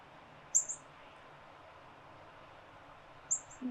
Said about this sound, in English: you can probably hear the call of the birds